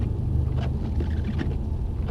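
A Mercedes-AMG car drives on the track at Mercedes-Benz World Brooklands, its engine a steady low rumble heard from inside the cabin with faint road noise throughout.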